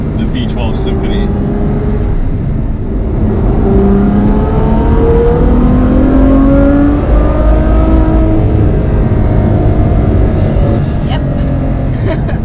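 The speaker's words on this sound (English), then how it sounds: "The V12 Symphony." Ferrari F12 Berlinetta with its V12 engine revs and pulls hard, a loud continuous rising and falling engine roar heard from inside the car, with brief talk over it.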